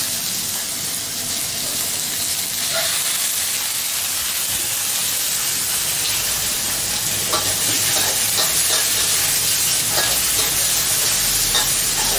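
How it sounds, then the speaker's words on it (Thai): Duck meat is stir-fried in a hot wok on a Thai cooking show, giving a loud, continuous sizzling hiss with scraping stirring throughout and no talking. "เราก็ผัดสักพักนะครับจนกว่าเป็ดมันจะสุกนะครับ"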